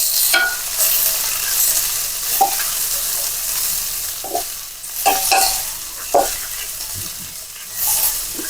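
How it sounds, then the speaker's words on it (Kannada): Onions frying in a pan for tomato curry, with a steady broadband sizzle and repeated scraping stirs of a spatula at irregular intervals, close and fairly loud, no talking. "ಈಗ ಸ್ವಲ್ಪ ಈರುಳ್ಳಿ ಹಾಕ್ತಾ ಇದ್ದೀನಿ"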